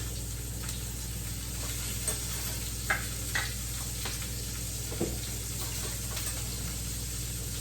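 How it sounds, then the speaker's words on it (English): Crushed garlic sizzles in a hot pan while fish is being prepared, a steady close hiss with a few light scraping stir clicks and a constant low hum underneath. "So here I'll add to this 1 teaspoon of crushed garlic."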